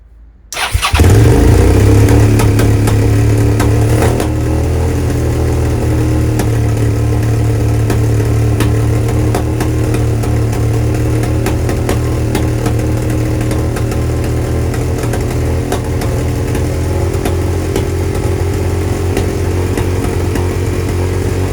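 A Suzuki SV650S motorcycle engine with an exhaust leak starts abruptly and settles into a loud, fast, steady high idle that roars on continuously, close by.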